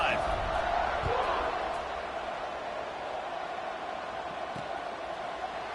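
Stadium crowd in the College Football 26 video game during a Houston versus Texas Tech matchup, a broad, steady roar of cheering that is loudest at the start and eases slightly, with a commentator talking over it.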